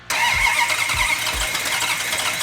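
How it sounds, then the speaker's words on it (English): A Plymouth 'Cuda engine cranks over with a few low starter pulses, then catches and settles into a loud, rough, steady idle, close up and with no talking. "it's time to crank it over and fire it up"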